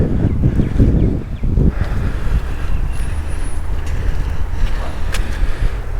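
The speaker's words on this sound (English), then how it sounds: "Oh, it's windy." Gusty wind roars and buffets close by, rough and loud throughout, with faint rustling and distant road noise underneath.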